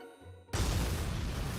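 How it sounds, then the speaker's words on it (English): A shipboard explosion in the war strategy game Valkyria Chronicles 4: a sudden loud boom bursts in after a quiet hum and rolls on as a sustained, rumbling roar. "An explosion has occurred on board."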